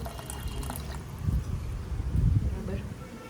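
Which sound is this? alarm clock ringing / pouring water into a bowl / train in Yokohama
pouring water into a bowl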